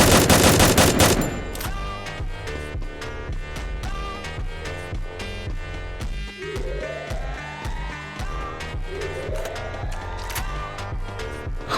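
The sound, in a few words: gunfire in the video game Free Fire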